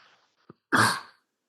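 A single sharp, explosive sneeze bursts out after a faint breathy intake, loud and close, then fades quickly into silence.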